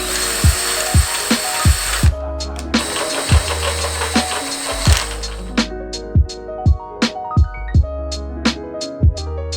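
A -10 AN bung fitting is drilled in a garage. A power drill whines in bursts, and sharp metallic knocks recur between and after them.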